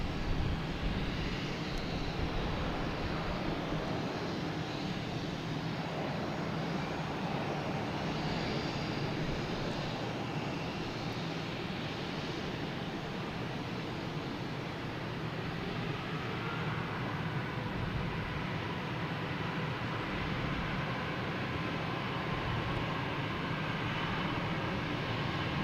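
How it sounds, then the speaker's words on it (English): A Delta Airbus A321 bound for Atlanta takes off at Boston Logan Airport, its engines roaring as a loud, steady broadband rumble for the whole stretch, with no talking. "We have Delta here though, next going up, heading to Atlanta, an A321."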